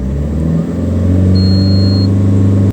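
An Alfa Romeo 159 with a charging-system fault revs up at close range, a loud steady engine drone that climbs in pitch and holds high, with a faint electrical whine riding over it and no voices.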